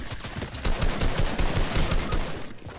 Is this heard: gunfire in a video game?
yes